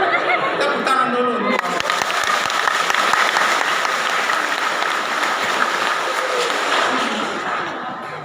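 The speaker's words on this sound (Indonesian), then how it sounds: "Tepuk tangan dulu." A church congregation at a Sunday sermon breaks into sustained applause, a dense even clapping from many hands that carries on for several seconds and tapers slightly, with some chuckling and murmuring mixed in.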